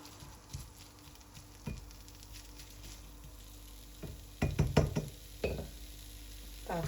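Minced pork sizzles quietly in a pan, with a few sharp clinks and scrapes of a utensil stirring, clustered toward the end.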